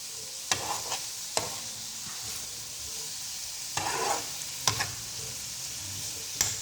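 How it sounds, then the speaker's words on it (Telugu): Snake gourd pieces with masala sizzle steadily in a pan, a continuous close frying hiss punctuated by several sharp clinks and scrapes of stirring. "ఇంకా ఈ పొట్లకాయ ముక్కలు అనేది ఇంకా ఫ్రై అవ్వాలి"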